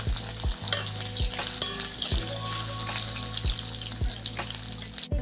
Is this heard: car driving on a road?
no